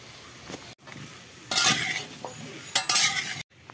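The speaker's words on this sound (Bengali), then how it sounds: "এখানে আমি আলুটা ভেজে নিই।" Potatoes fry in a pan, with a soft sizzle broken by short bursts of stirring and the scrape and clink of a utensil against the pan, close by.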